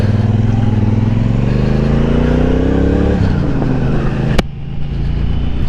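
A 2022 Triumph Bonneville Bobber cruiser motorcycle pulls hard while being ridden, its engine note climbing steadily with loud rising harmonics, then it drops away after a shift or throttle cut, with heavy wind noise throughout.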